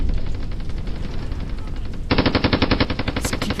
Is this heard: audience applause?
no